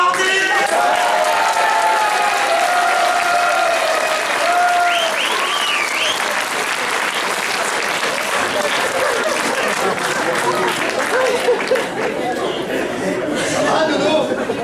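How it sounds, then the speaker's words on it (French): A whole crowd applauds a champion's arrival, sustained dense clapping mixed with chatter and a few chuckles, steady and loud throughout with voices woven into the noise. "Le grand champion Pagol est arrivé sous les applaudissements de la foule entière."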